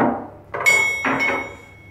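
A metal pin is knocked back into the adjustment of a DYNA FastFit scraper system with a few sharp, close hammer taps in quick succession, followed by a brief ringing tone.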